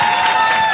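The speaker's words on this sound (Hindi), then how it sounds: "जोर से ताली बजाओ" Audience at a Hindi stand-up comedy crowd-work show clapping loudly, a dense, steady wash of applause filling the whole moment.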